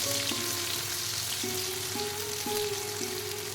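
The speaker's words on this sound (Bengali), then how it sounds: "পেঁয়াজ কুচিগুলো তেলের মধ্যে হালকা ব্রাউন করে ভেজে নিচ্ছি" Chopped onions browning in hot oil for a sour fish curry, giving a constant close sizzle with a faint tonal whine running underneath and no talk.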